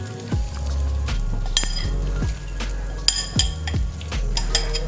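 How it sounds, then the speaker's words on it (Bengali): Basmati rice tips into a pan of fried whole spices for Bengali basanti pulao, followed by close metal clinks and scraping from stirring, with faint sizzle beneath. "চালটা দিয়ে দিচ্ছি"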